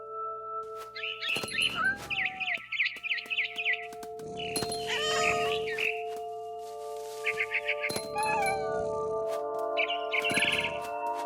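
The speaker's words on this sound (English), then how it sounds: "I was a cat." A cat meows repeatedly in What Remains of Edith Finch, clear rising cries spaced across several seconds, mixed with bursts of quick, bright bird chirping and soft background game ambience.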